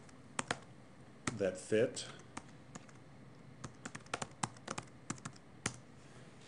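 Phrases typed on a computer keyboard, with bursts of crisp, close key clicks in irregular clusters, some heavier keystrokes, and a brief voice speaking partway through.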